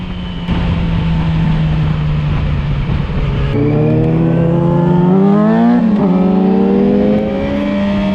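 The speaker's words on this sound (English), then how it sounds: "when I'm opening that throttle, this bike is a rocket ship because all the power on this bike is in higher RPMs" A 600cc sport motorcycle, a Yamaha R6 or Suzuki GSX-R600, revs hard at high RPM, its loud engine drone climbing steadily in pitch with a brief dip near the end, close and alone.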